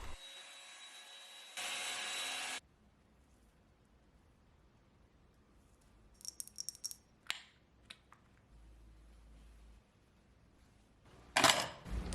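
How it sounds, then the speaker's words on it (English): A handheld blow drying wand runs on hair at home, its steady broadband whoosh loud for about a second near the start, then quieter clicks and brief rustles follow, with another short burst at the end. "blow drying wand"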